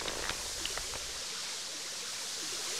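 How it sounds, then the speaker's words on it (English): Water running from an old pump in the Resident Evil Director's Cut game, a steady broadband rush like a stream, moderately loud and continuous, with a few faint brief clicks near the start. "The old pump of water seems to be flowing from here."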